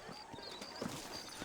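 Horses clip-clop at a steady walk through a frontier town in Red Dead Redemption, soft hoof knocks fairly close, with a faint voice under them.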